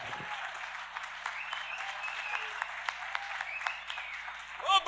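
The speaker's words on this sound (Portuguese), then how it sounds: "Aplauda o rei." A church congregation applauds during a worship service, a steady even wash of clapping throughout that swells slightly near the end, with faint voices cheering over it.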